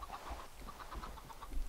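A Minecraft chicken produces a short run of soft, repeated clucks at a steady pace, fairly faint against a quiet background.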